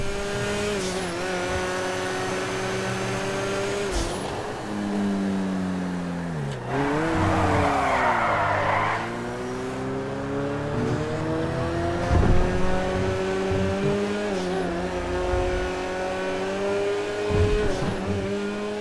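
A vintage 1960s car engine rumbles steadily, revving up and down through gears with a brief rising rev in the middle; no one speaks. A tuned Stinger GT in GTA 5 Online.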